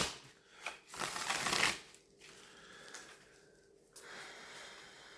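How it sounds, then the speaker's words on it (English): A tarot card deck gets a quick riffle shuffle, a short rushing flutter of cards up close, followed by softer handling rustles and quiet room tone, with no voices. "I'm going to give the deck a quick shuffle"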